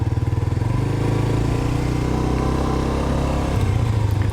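Suzuki GSX-R 125 ABS motorcycle engine running steadily and loud and close, with a rhythmic low throb that pulls away as the bike sets off, with no talking.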